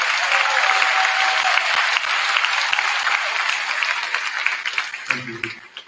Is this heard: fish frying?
no